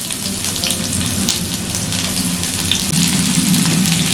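Chopped onion hits hot white oil in a wok and fries with a loud, dense, steady crackling sizzle that holds without a break.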